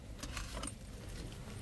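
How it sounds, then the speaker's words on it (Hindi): Keys to a 2023 Toyota Fortuner 4×2 jingle close by as they are picked up, a few light metallic clinks and rattles over a low steady background hum. "बंद करने के बाद अपनी चाबी उठाते हैं यहाँ से"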